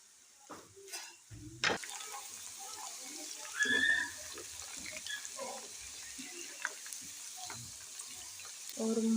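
Sliced potato chips dropped into hot ghee, a soft steady sizzle after a clatter of them going in, with occasional utensil knocks and faint background voices.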